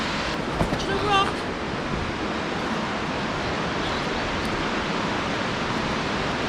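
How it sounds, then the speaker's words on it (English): A waterfall on the Waterfall Way in New South Wales roars as a loud, continuous wash of noise, with a brief voice near the start. "We go down to the waterfalls."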